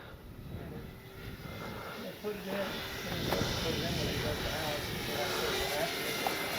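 A Flightline P-51D Mustang model airplane flies in windy conditions, its electric motor a faint, steady whine under someone talking nearby.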